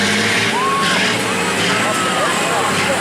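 A stock semi truck at a truck pull event gives a loud, sustained engine roar that fills the whole stretch without a break, with people talking over it.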